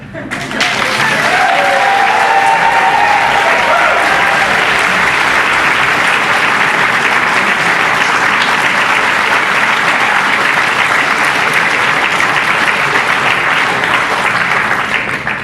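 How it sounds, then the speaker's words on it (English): An audience at a political hustings at Marsden Mechanics bursts into loud, sustained applause that fills the room evenly for a long stretch, with a few raised voices cheering briefly near the start. "We won't count applause as heckling."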